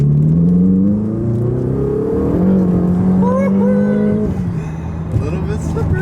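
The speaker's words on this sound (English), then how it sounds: "You can give it a little bit of gas here." A Ferrari twin turbo V8 engine hums low, then rises and falls as it revs, with the exhaust note climbing in pitch, loud and close, under someone talking.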